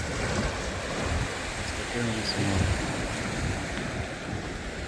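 Steady surf washes along a wide beach at Hrybivka, a continuous broadband roar of breaking waves mixed with wind buffeting the microphone, and a voice briefly speaks over it.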